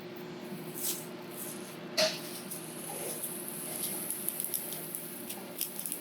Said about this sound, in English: you can hear it punching holes in the film